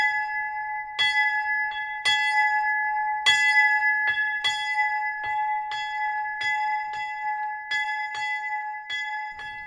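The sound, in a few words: bell being rung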